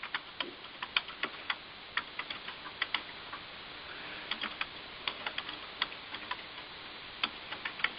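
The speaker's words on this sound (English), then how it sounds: "So I'm typing that in" Keys clicking on a computer keyboard during an online judging webinar, producing a brisk, irregular run of sharp taps and clusters across several seconds, close and fairly quiet, with no talking.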